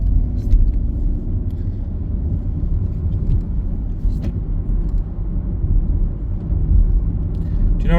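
A car rolls along a road around Percy Main, its low engine and tyre rumble steady and muffled from inside the cabin, with a few faint clicks and no clear talk.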